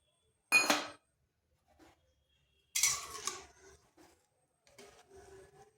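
Chopped green chilli mixture being stirred in a pan with a utensil for a crispy spicy rice-flour pitha, giving a sharp scraping rasp, then a longer scraping stretch and softer clinks, with quiet gaps between.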